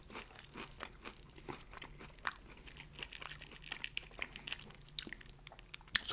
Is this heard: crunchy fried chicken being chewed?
yes